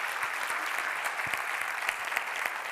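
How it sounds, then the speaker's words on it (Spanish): Audience applause at a 2025 conference session on children and adolescents affected by gender violence: steady, dense clapping that holds for about three seconds with no talking. "Un fuerte aplauso"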